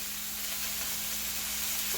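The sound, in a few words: frozen chopped shrimp frying in a pan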